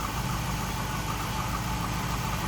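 A 2002 Chevrolet Camaro SS V8 35th Anniversary convertible idles steadily and smoothly, a constant low engine rumble close by with no talk over it.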